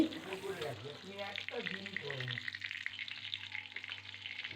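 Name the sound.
beans and boiled potato frying in a pan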